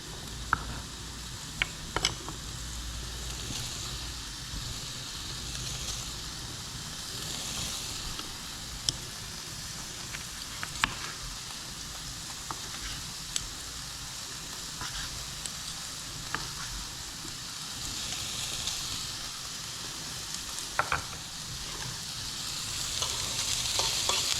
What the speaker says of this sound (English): So that's the sausages in the pan.